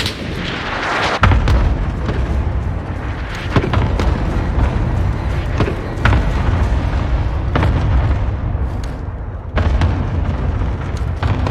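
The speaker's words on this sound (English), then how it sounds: "Allied cluster strike inbound." Cluster strike explosions in a team deathmatch video game: a series of loud, booming blasts and rumbling impacts, roughly four heavy hits spread across the stretch over a continuous low roar of combat.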